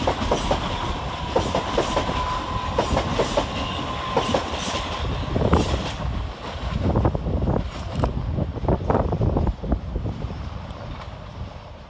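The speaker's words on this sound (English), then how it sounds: "Next to arrive into the station is 700 142, working the 1040 Govia Thameslink service" A Class 700 Govia Thameslink electric train rumbles through Three Bridges station with rhythmic clicking of wheels over rail joints and a steady hum, loud and close, wind buffeting the microphone.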